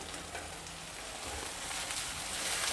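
Finely chopped dill leaves fry in a pan for a mango rice dish, giving a steady close sizzle that swells slightly as they cook, with no talking.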